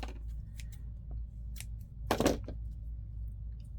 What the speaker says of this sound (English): just cut that split end off